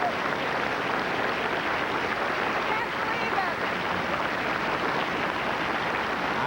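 A studio audience at the 1984 Pillsbury Bake-Off applauds in a steady, dense wash of clapping that holds at full strength throughout, with no pause or fade.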